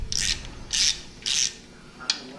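Wrench loosening the oil pump bolts on a Trans Am WS6 engine during a build, three close scraping ratchet bursts at an even pace and then a short final click, with no talk.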